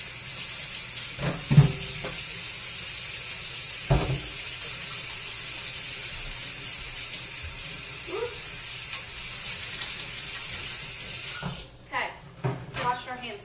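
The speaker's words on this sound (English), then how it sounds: "So hold on, I'm going to wash my hands" A kitchen tap runs steadily while hands are washed beneath it, a constant close hiss of water with a few thumps and clatters, then the flow stops near the end; a voice is heard briefly.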